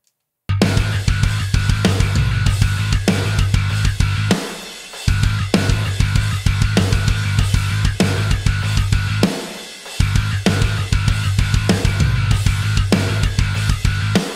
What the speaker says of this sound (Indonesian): Ketika snare bunyi dan kick bunyi.